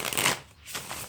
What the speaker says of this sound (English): And we'll go ahead and shuffle the oracle.